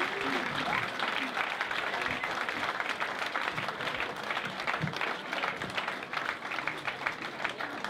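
Lively applause for students at a Glamour Night event, a full crowd clapping steadily at moderate volume with faint voices mixed in.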